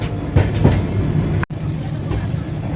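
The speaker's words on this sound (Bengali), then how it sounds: "একদম অন টাইমে ট্রেন আছে আমাদের ছেড়ে দিল ট্রেন" A long-distance pilgrimage train pulling out of Sealdah station in Kolkata, bound for the Amarnath Yatra, rumbles steadily with low rolling wheel noise and faint clatter, close and continuous, briefly cut by a short dropout midway.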